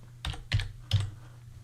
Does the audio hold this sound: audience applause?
no